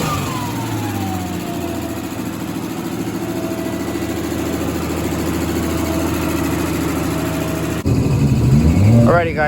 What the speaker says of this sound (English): it's finally running. Let me go ahead and show you how she runs in case if anybody wants to buy this thing.